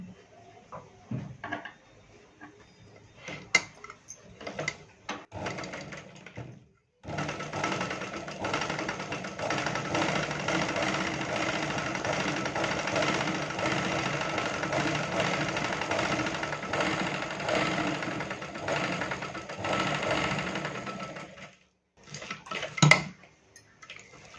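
A sewing machine stitches a strip for a blouse waistband in one long, steady run of about fifteen seconds, giving a continuous rattling whir. Scattered clicks and handling knocks of the fabric and machine come before and after the run.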